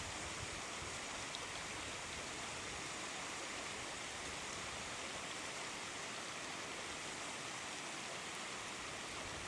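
A distant waterfall pours as a steady, faint broadband hiss of rushing water, continuous and unchanging throughout with no voices.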